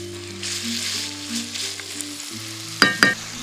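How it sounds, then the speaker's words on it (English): Bamboo shoots for a Vietnamese rice roll filling sizzle steadily in a hot pan with a low hum underneath, then two sharp metallic stirring scrapes near the end, close and fairly loud, with no speech. "Add the bamboo shoots. Stir for 2 minutes."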